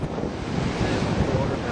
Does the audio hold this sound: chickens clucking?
no